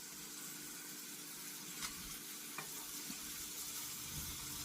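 Pork chops seasoned with ranch seasoning sear in a cooking-sprayed pan, giving a steady, faint sizzle with a few soft clicks and taps of handling throughout.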